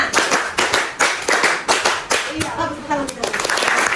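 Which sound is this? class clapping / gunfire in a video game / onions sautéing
class clapping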